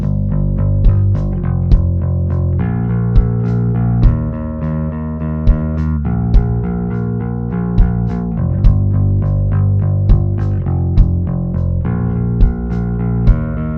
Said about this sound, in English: the bass and the kick drum are competing with each other a lot in the low end